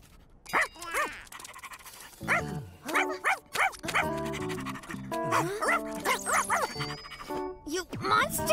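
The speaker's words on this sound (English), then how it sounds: "That's just a puppy, not a monster!" A cartoon puppy pants in quick rhythmic bursts and gives short, yappy barks and whimpers, close and lively, with animated character voices mixed in.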